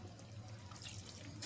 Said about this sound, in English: we'll just add in a little water to loosen it up